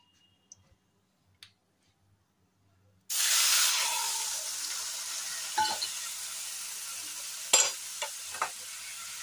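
Spice paste of ground dried red chilli, cumin, coriander and sugar hits hot butter after a near-silent start, bursting into a loud, steady sizzle with scattered sharp clinks of stirring.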